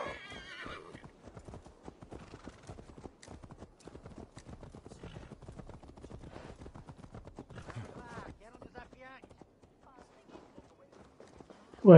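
A horse in Assassin's Creed Valhalla clip-clops steadily at a walk, hooves close and continuous, with a whinny, while a person talks quietly over it.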